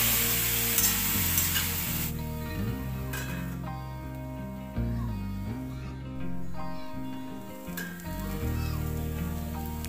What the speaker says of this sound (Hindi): इसे अच्छे से मिक्स करेंगे और मिक्स करने के बाद इसे ढककर लगभग